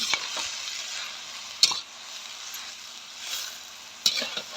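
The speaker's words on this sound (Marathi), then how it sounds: "कट केलेली माळ भाजी टाकायची हे काय करते चांगले हलवून घ्यायची अशी मिक्सअप करून घ्यायची" Chopped amaranth greens stirred in a hot pan with oil, a steady soft sizzle broken by a few sharp scrapes and clinks of a spatula, close up with no talking.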